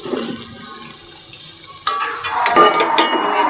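Soybeans and potatoes hit a pan of cooked-down spice paste, a soft low stir giving way to a sudden loud burst of sizzling and frying that stays busy and bright to the end.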